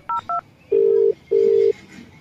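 A few DTMF tones as a telephone number is dialed, two short beeps followed by two longer steady tones, clear and close with no talking.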